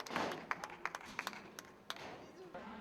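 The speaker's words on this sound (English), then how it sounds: "Christophe Legendre stands on the top of the Magny Cours podium, taking the acclaim of the crowd." A crowd at the Magny Cours circuit applauds the 2010 Lotus Cup Europe race winner on the podium, with scattered sharp claps and taps, fairly faint, beneath a voice talking.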